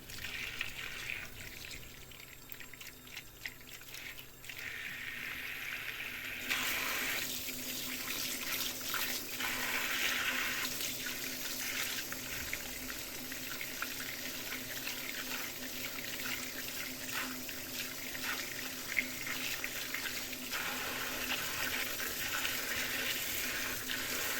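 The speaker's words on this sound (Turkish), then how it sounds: "Zeytinlerimizi güzelce yıkayalım." Black olives are rinsed under a running kitchen tap, a continuous close stream of water into a sink that grows fuller and louder after a few seconds, with no talking.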